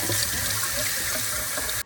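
Tap water runs steadily into a kitchen sink as broccoli is rinsed, a constant close splashing rush that cuts off abruptly at the end.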